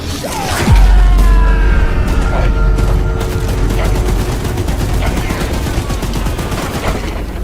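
Sustained rapid gunfire from a mounted gun aimed at the monstrous spider-train Charles in the horror game Choo Choo Charles, a dense loud barrage with a heavy boom at the start and mechanical clatter running throughout.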